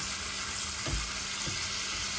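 Boneless chicken with spices cooking on a tawa over low heat, a constant gentle sizzle with a couple of soft stirring knocks.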